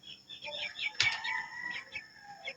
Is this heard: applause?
no